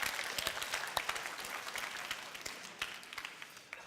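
A church congregation in Gunsan claps together, a steady patter of many hands filling the sanctuary for a few seconds.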